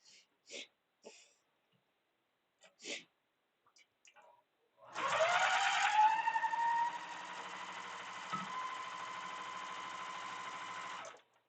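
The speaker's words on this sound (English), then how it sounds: "let's sew these three back up together the way they're supposed to be" Sewing machine joining three quilt pieces, a faint steady motor whir with a tonal hum running for several seconds after some brief soft handling noises and a cough, close and without talk.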